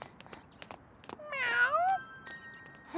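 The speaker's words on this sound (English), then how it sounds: "A cat." A cartoon cat gives a high, wavering meow with a sliding pitch, followed by a sustained thin tone, amid scattered light clicks and taps in a quiet animated street scene.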